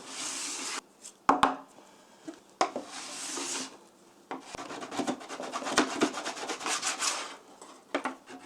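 A plastic scraper drags and scrubs excess hot wax off a snowboard base in close, rasping strokes, with short scrubbing bursts, a few sharp knocks and brief pauses between passes.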